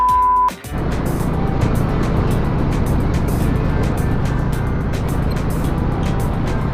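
Road traffic passing on a highway near Hosur while riding a Royal Enfield Classic 350, a loud continuous roar of engines and wind that starts after a short pause and holds steady throughout.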